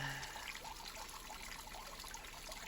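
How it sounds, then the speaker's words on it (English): Gentle water falling at a river spot, a soft continuous trickling and splashing that stays steady and fairly quiet throughout, with no voices. "This is a beautiful place on a river where you can hear the gentle falling"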